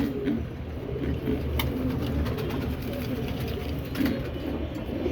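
Pigeons nesting over their eggs coo softly and steadily at a distance, under a faint hum of background noise.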